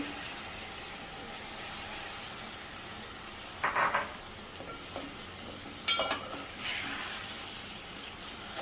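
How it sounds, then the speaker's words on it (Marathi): Bombay duck fish, brinjal and potato go into a spicy Agri-style curry and are stirred, giving a soft continuous sizzle broken by a few sharp scraping bursts from the spoon against the pan. "आता यामध्ये मी बोंबील आणि वांगा बटाटा घालते"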